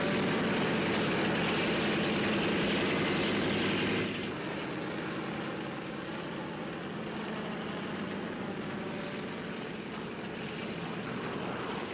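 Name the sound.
airplane engines before takeoff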